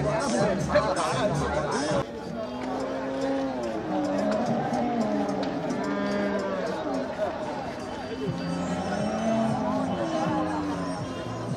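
Cattle low at a busy livestock market in Melapalayam, their long, drawn-out moos rising and falling over the steady chatter of a crowd, with people talking close by throughout.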